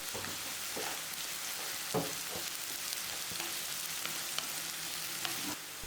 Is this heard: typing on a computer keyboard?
no